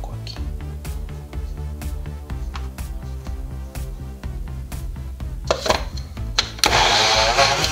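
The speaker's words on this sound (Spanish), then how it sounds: "Ahora vamos poniéndole un poco de aceite y lo volvemos a procesar" Food processor churning chickpea cookie dough with oil, a low motor drone broken by repeated knocking ticks, swelling into a louder, harsher whir toward the end.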